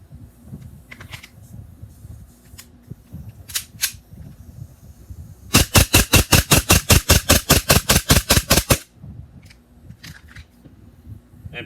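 A gas blowback airsoft pistol fires a rapid string of about twenty sharp, loud cracks in steady rhythm, standing out clearly between quieter handling noises before and after.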